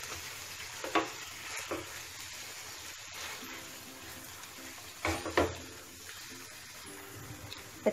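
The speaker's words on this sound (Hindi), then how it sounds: "तो इसको हमें अभी मसाले के साथ फ्राई करेंगे कम से कम 1 मिनट के लिए।" Egg bhurji with spices fries in a pan, giving a soft, low sizzle. A few louder scrapes and stirs of the spatula come through, with no talking.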